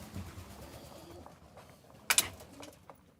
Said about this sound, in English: More pigeons up on their little roost there.